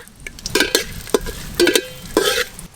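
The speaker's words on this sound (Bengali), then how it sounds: "গোটা গরম মশলা আর তেজপাতা আমি দিয়ে দেব ঘিয়ের মধ্যে।" Whole garam masala and bay leaves hit hot ghee in a pan, giving a soft steady sizzle broken by several sharp scrapes and clinks of stirring, close and clear with no voices.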